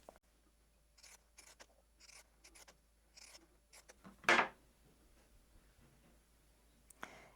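Pinking shears snip once through quilt fabric in a single crisp, close cut, surrounded by quiet rustling and handling of the cloth in an otherwise hushed room.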